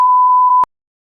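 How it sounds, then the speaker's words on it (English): A heart monitor's flatline beep, a steady continuous electronic tone, sounds clearly for over half a second in a hospital room, then cuts off abruptly into silence. "A long, flat beep echoed in the room."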